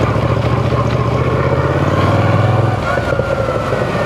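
A Moto Guzzi V7 Sport motorcycle engine rumbles close by, a deep, steady throb for nearly three seconds before it quickly fades to a softer background hum.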